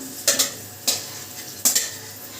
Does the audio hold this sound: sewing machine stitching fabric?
no